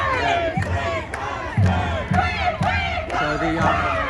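A protest crowd at Sydney Town Hall shouts in loud, rhythmic bursts as it begins marching off, with chanting voices rising and falling over a constant dense crowd roar.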